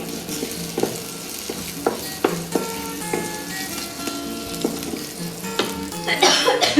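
Leafy greens frying in a pan over steady sizzling, with a run of sharp metallic scrapes and stirring knocks at irregular intervals and a louder flurry near the end.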